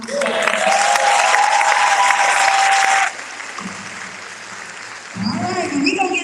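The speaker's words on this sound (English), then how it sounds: "Can y'all please give my husband a round of applause?" An audience at an eighth-grade commencement applauds loudly for about three seconds, a steady burst of many hands clapping with a faint melodic tone beneath, then it cuts to quieter room sound and a voice resumes talking.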